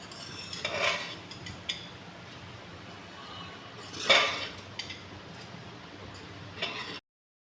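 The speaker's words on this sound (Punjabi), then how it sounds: "ਹਲਕਾ ਜਿਹਾ ਆਪਾਂ ਚੌਲਾਂ ਨੂੰ ਭੁੰਨ ਲਿਆ ਗਾ ਘਿਓ 'ਚ" Rice is stirred and lightly roasted in ghee in a pressure cooker pot for sweet rice, giving a few soft scraping and clinking strokes, with louder bursts near the start, the middle and the end over a quiet background.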